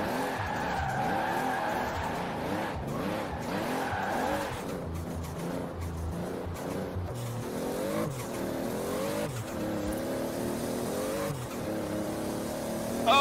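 The Eliminator drifting in Forza Horizon 4, its tires squealing in long wavering sweeps over a droning, revving engine, loud and continuous with repeated rising and falling pitches.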